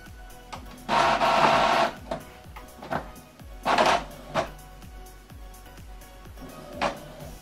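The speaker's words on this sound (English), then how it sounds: "So now it's printing." An Epson WorkForce printer runs a print job, with bursts of mechanical whirring separated by clicks and short motor pulses, close and clear with no talking.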